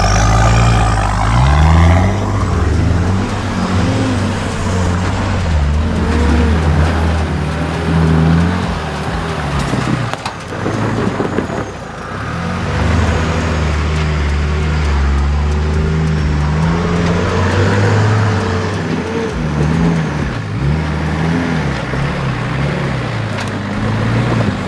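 A 4WD vehicle climbs a steep high country hill in the Victorian mountains, its engine droning loud and close throughout with revs rising and falling, briefly easing near the middle.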